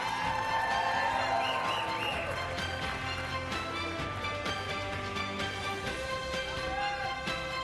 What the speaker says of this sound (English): once again a round of applause for him